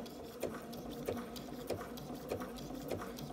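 Sewing machine stitching paraglider line, running steadily with a fast, even mechanical clatter and regular needle beats, fairly faint and alone.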